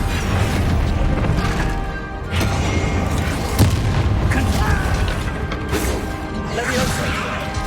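Spell explosions from Hogwarts Legacy, including blasting curses, boom and crash repeatedly in a dense, loud barrage of impacts over continuous battle noise, with a voice speaking over them.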